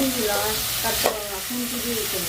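Food is stirred and fried in a pan in a home kitchen. A steady, close sizzle plays throughout, with a scraping stir near the middle.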